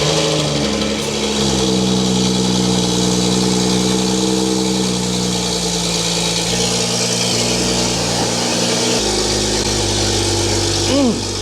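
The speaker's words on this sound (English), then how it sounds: "Finally, definitely idling better." A BMW 135i engine settles into a steady, loud idle right after starting, a continuous close rumble with a slight pitch shift partway through and a brief rise near the end.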